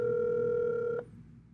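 A cell phone auto-dialing a sales prospect at Broadcom Corporation: a steady two-tone dial or ringback tone holds clearly for about a second, then cuts off abruptly, leaving low background hum.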